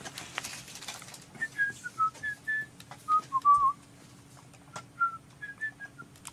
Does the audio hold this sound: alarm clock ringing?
no